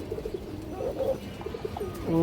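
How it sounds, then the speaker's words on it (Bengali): A male Palla line pigeon coos nearby in a run of low, rolling notes, with a louder, longer coo closing the stretch and no talking heard. "একটা পাল্লা লাইনের নর কবুতর অনেক সুন্দর একটা কবুতর"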